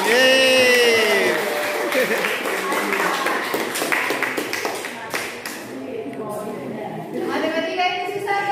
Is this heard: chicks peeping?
no